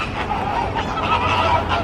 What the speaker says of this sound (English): And then you can hear all the flamingos.